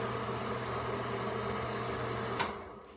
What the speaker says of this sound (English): sorry about the loud fan.